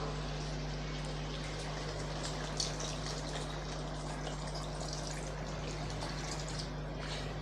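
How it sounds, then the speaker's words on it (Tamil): Steady rushing of water pouring into a pot of chicken curry, continuous and close, with a hum running underneath throughout. "இப்போ நம்ம குழம்புக்கு தேவையான அளவு தண்ணி சேர்த்துடலாம்"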